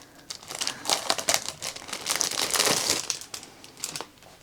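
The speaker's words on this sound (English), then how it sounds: "The calendar itself is wrapped in a further plastic bag to protect it." A plastic bag wrapped around a diamond painting calendar crinkles loudly and close in irregular bursts as it is handled and pulled open, with no voices.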